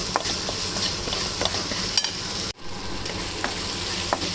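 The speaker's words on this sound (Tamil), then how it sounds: "தக்காளி நல்லா வதங்கிட்டு அப்படியே கொஞ்சம் உப்பு போட்டுக்கணும்" Tomatoes are sautéed with salt in a pan as the base for a fish curry, giving a steady sizzle broken by scraping stirs and one brief pause, close and clear, with no talking.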